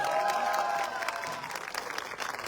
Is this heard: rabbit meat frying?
no